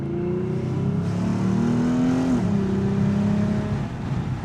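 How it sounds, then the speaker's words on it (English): A Lexus IS350 fitted with a sound mod revs and accelerates, its engine note climbing steadily in pitch, dropping briefly at a shift, then pulling up again, heard from inside the car without talking. "I just want to floor it a little bit just to see what it's gonna sound like"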